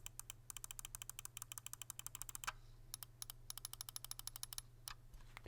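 Side buttons of a Logitech G303 Shroud wireless gaming mouse clicked rapidly in long bursts, dozens of sharp, light, close-up ticks with a brief pause midway, nothing else audible.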